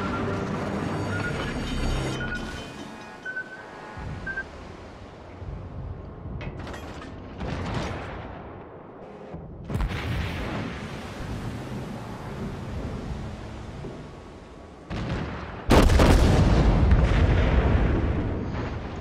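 The main guns of the battleship South Carolina fire in the World of Warships naval combat game, heavy booming blasts recurring every few seconds over low mechanical rumble, with the loudest salvo close at the end.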